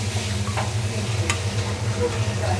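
Onions are added to goat meat frying in a pot and the mixture sizzles with a dense, steady crackle. A spoon scrapes and stirs the pot throughout, with a brief clink along the way.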